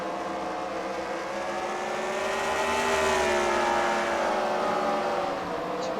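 Wrecker cars race around a track at a demolition-style car fight night, their engines droning in a continuous blended roar that swells slightly midway as the pack passes, loud and sustained with no voices.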